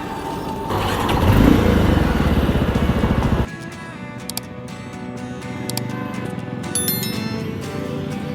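A Bajaj Avenger Cruise 220 motorcycle engine revs loudly at first, then settles into a steady running drone as it rides along the road, with wind buffeting and no talk.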